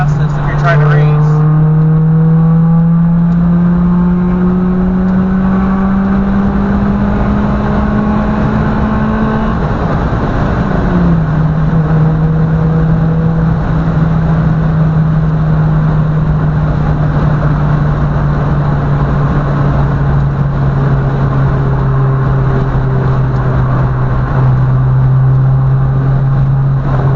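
A manual car with a broken first gear is driven and shifted without the clutch. Its loud, steady engine drone climbs in pitch, dips sharply at one gear change near the middle, then settles into a long, slowly falling hum.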